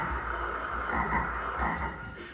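A frog croaks loudly and continuously in an animated scene. The steady, raspy croaking sits over a low background hum, with no speech.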